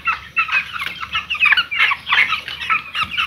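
Young chicks in a hot poultry shed peep and chirp constantly, many overlapping high cheeps close by with no talk.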